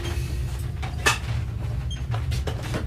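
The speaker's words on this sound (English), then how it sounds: "We're opening the missile doors." Submarine missile hatch doors opening in an action film, a heavy mechanical clunk and faint creaks over a constant deep rumble and hum, steady and enclosed, with no talk.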